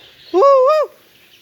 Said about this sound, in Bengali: মুরগিগুলো দেখেন দৌড়াদৌড়ি করতেছে